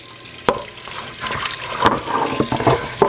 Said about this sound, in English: I'm going to rinse as much as I possibly can out